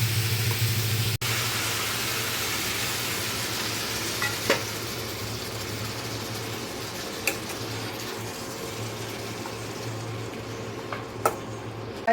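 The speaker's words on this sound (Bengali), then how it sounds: "ঢেকে ঢেকে একটু ভেজে ভেজে নেবো আমি" Mixed vegetables and washed greens for a white data shak ghonto fry in a pan with a steady, soft sizzle and a low continuous hiss, broken by a few faint stirring clicks, with no talking.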